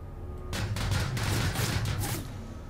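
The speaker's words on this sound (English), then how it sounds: "Oh, they're shooting us." Rapid gunfire in a PlanetSide 2 battle, with players under fire. A dense, continuous burst of overlapping shots and blasts keeps going, loud and close, with no talk over it.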